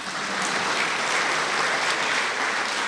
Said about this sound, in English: A round of applause for the event organizing for Mrs. Hetty Shapira